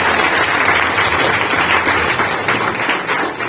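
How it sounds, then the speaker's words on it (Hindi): Loud, steady applause from an audience at a rural medical practitioners' training programme, dense clapping sustained for the full few seconds with no break. "मैं चाहता हूं कि जोरदार तालियों से आप अभिवादन"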